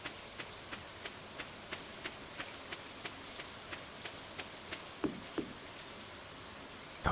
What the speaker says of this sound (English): Wonder how much Linus likes rainy days, getting to hear him on his tent.